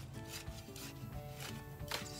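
Gritty rubbing and scraping as fertilizer is stirred into soil in a container garden, in a few repeated strokes that are close and fairly quiet, under a faint steady tonal hum.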